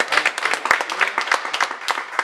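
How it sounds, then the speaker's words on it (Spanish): An audience applauds after a harp concert held in a museum, a dense patter of many hands clapping at close range with a few sharper claps standing out, steady throughout. "Un aplauso, por favor."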